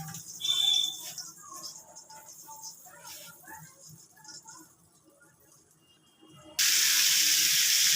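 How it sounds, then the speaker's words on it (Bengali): Salted fish frying in oil with turmeric in a wok, a muffled crackle that swells into a loud, steady hiss of sizzling near the end. "এগুলোকে আগে একটু ভেজে নিচ্ছি"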